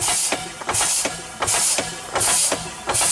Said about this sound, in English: So I had to run the Henry Ford engine a little bit here.